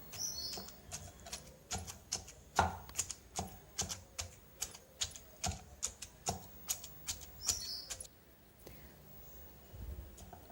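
A wooden stick pounds dry fried boondi in a vessel, producing a steady series of sharp, close taps in an even rhythm that stop near the end, with a faint quiet background.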